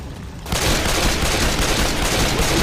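Sustained automatic gunfire in Left 4 Dead 2, bursting in abruptly and continuing as a loud, dense, unbroken rattle of shots.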